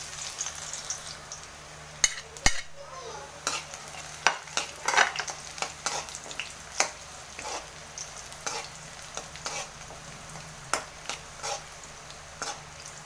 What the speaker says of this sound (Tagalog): Magigisa na po tayo, guys, ng bawang at saka sibuyas.